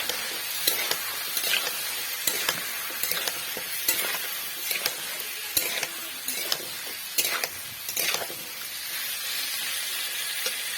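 Thinly sliced potatoes are stirred in a frying pan as part of a dried lotia fish curry, with steady broad sizzling and repeated scraping strokes of the spatula close by, and no talk.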